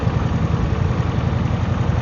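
A Kawasaki VN 1500 cruiser motorcycle engine runs at a steady low throb, with a continuous rumbling pulse that stays even and fairly loud throughout.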